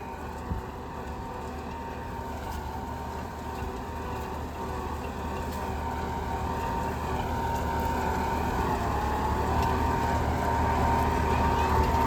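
Eicher 650 CRDi 4x4 tractor pulling a seven-tine plough through a field, a steady loud diesel drone with low rumble that holds constant and swells slightly over twelve seconds, no speech.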